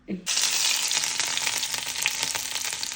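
Garlic fries in a hot pan in a home kitchen: a loud, steady sizzle starts abruptly and then crackles continuously, close up, with no talking.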